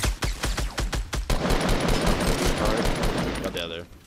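Automatic gunfire in Fortnite Battle Royale: a rapid series of loud, sharp shots with an even rhythm, then a dense sustained burst of fire, with a voice briefly under it.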